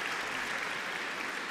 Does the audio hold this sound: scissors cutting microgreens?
no